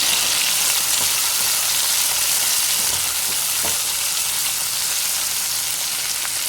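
Chopped tomatoes sauté in hot oil in a pan for a kuzhambu, giving a steady, close hiss and sizzle with a few faint stirring taps. There is no talking.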